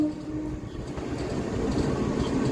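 A MEMU passenger train pulls away from Chakarlapalli railway station, giving a steady low rumble and rolling rail noise heard from on board, moderately loud and continuous, with no voices.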